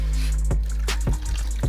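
Water poured from a container into a camping pot of oats with a little salt, a few short splashing pours over a steady low hum, fairly close and with no one talking.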